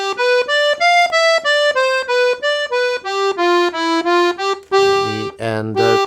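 A piano accordion plays a lively, bright forró melody, with rhythmic repeated notes in a steady bouncing pulse and a few low bass chords near the end, loud, close and unaccompanied.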